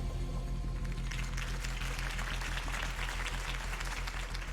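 Crowd applause breaks out after a campaign speech in Batman: The Telltale Series, with dense, sustained clapping from a large audience that holds steady and loud over an underlying musical drone.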